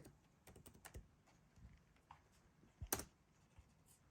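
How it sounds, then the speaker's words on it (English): Typing on a computer keyboard, a quiet, irregular run of close key clicks in small bursts, with one sharper, louder keystroke near the end. "I might as well type it in here"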